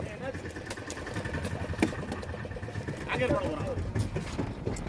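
A boat engine idles steadily in the background while people talk loudly over it outdoors.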